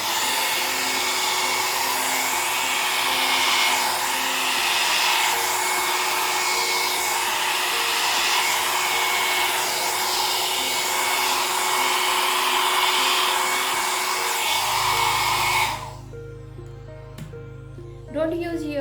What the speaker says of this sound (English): I am using the hairdryer on the low speed.